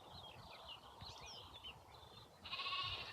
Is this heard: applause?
no